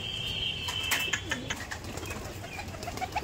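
Pigeons being fed rice give soft coos and bursts of wing flapping nearby, with faint chirps and small pecking clicks over a steady background hum.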